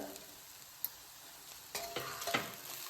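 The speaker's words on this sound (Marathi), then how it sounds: "खोबरं टाकल्याच्या नंतर पुन्हा आपल्याला दोन ते तीन मिनिटं मस्त असं परतून घ्यायचंय" Onion and grated coconut sauté in a pan for a masala, a faint steady sizzle with soft scraping stirs near the end, quiet and close with no talk.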